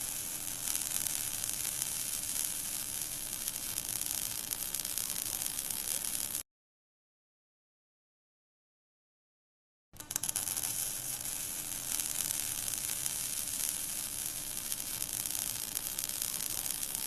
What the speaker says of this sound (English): start welding by pressing the trigger button.